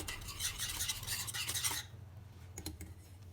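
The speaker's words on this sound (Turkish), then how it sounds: "Kaynayana kadar birazcık karıştıracağız." Sauce for churros stirred in a pot as it heats toward a boil, with soft continuous scraping and swishing of the spoon against the pot, then a few faint clinks, close up and quiet.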